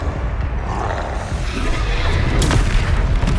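A Confringo fire spell explosion in the video game Hogwarts Legacy: a loud, deep booming blast with a rumbling roar that swells and sustains, with a sharper crackle near the end.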